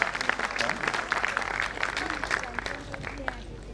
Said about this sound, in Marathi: जरा टाळ्यांचा जोरदार गजर होऊ द्या.